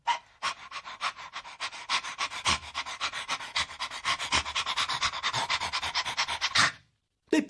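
A puppet performer voices a dog panting, a fast steady run of breathy huffs lasting several seconds, close and loud, ending in a brief pause; the panting is a human imitation, not a real dog.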